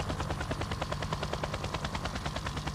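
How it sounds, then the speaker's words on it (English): Helicopter arriving near a harbor, its rotor thumping in a fast, steady rhythm with a dense engine whine, loud and continuous with no talk. "Send a helicopter to the harbor quick."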